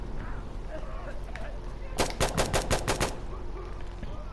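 A short burst of rapid automatic gunfire, about eight sharp shots in a row, rings out in the Insurgency Sandstorm video game, with quiet voices talking faintly before and after.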